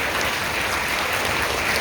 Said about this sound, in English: Let's give a round of applause to all our candidates for spending so much time with us today.